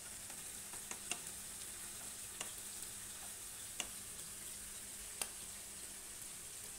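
Garlic sizzles in a pan with lamb and rosemary, a quiet steady frying crackle with occasional sharp pops and light stirring, close and alone without talk.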